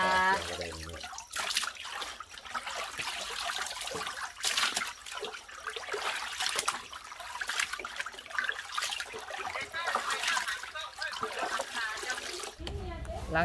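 Tap water runs and splashes continuously while fish is washed clean for a Thai fermented fish dish, a steady trickling stream with small splashes and brief louder bursts, close by.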